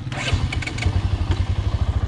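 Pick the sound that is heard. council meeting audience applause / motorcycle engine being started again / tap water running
motorcycle engine being started again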